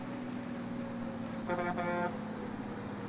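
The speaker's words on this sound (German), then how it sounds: "Hab schon gehupt, habt ihr gehört?" A car horn honks in the 1930s-era Mafia: Definitive Edition video game, one short blast of about half a second amid steady engine hum.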